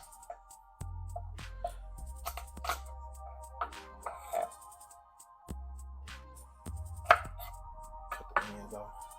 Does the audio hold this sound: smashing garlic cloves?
yes